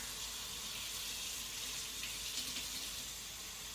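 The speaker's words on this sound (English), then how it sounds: "We're gonna put some cold water in our bowl." Cold water running into a bowl while preparing apple for a single-serve apple crisp, a steady, even splashing hiss that continues without a break and stays close and moderately loud.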